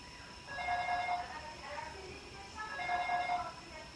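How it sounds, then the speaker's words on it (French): A telephone rings in two warbling electronic bursts separated by a short pause, moderately loud over a faint background hum. "de cet appel téléphonique et de cette sonnerie de porte"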